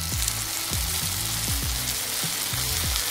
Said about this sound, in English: Just make sure that your oil is hot. Otherwise it's not going to create that sear that we're looking for.